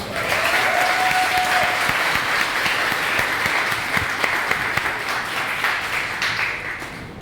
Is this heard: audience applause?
yes